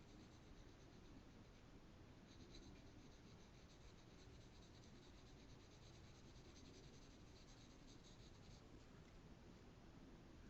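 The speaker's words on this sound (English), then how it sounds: "I'm going to sketch that in there so I can maintain that." Soft, continuous pencil strokes scratch across paper while sketching cloth folds, very faint and close, a steady rubbing texture with no talking.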